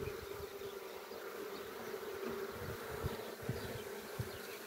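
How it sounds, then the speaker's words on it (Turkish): Honey bees buzzing steadily around a swarm trap hive on a rooftop, a dense close drone with individual bees flitting past the microphone, no talking. "Dediğim gibi arı gelmiş."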